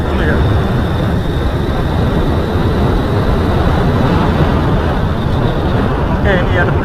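A motorcycle is ridden in fourth gear on a road, its engine and wind noise a loud steady broadband roar throughout, holding constant with no clear rise in pitch, while a rider's voice talks over it.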